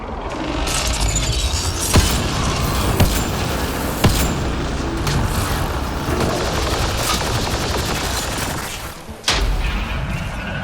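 Sustained gunfire in Mass Effect Andromeda, with bursts of automatic weapon fire and sharper individual shots ringing out over a dense, continuous din of combat, loud throughout with a brief drop near the end.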